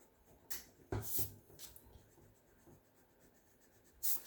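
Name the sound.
erasing pencil line on paper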